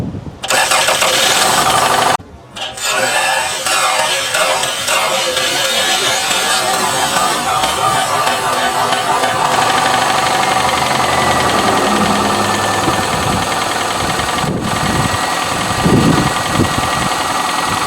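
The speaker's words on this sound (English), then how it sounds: "it is an old clanky engine, so when I do start this thing, you're gonna know." A 1987 Toyota Camry's old, clanky engine, cold and unstarted for three days, cranks and catches after a brief stop, then settles into a loud, rough, steadily knocking idle close by with a faint tick near the end.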